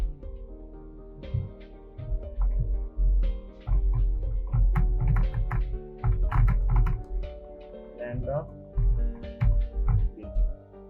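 Typing on a computer keyboard while writing HTML in a web design tutorial, with dense bursts of clacking keystrokes coming close and steady throughout, broken by brief pauses, and no talking.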